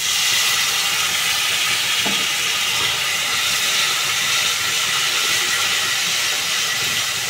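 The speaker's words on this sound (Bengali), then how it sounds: "এবার এর মধ্যে দিয়ে দেবো সামান্য কিছুটা জল।" A small splash of water hits hot spices in a pan for an eggplant and potato curry, raising a loud, steady hiss and sizzle that fills the whole stretch without talk.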